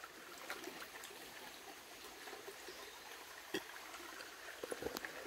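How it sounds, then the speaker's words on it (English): Shallow, slow water trickles out from the edge of a rice paddy field through a small channel, a soft steady babble with occasional faint splashes and drips, quiet and continuous with no voices. "So this water starts at the edge of one paddy field and then flows through this small section."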